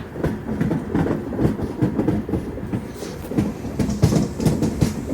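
A Secunderabad to Vasco da Gama express train rumbles steadily along the rails near Ballari with rhythmic clickety-clack from the wheels, loud and continuous throughout with no voices.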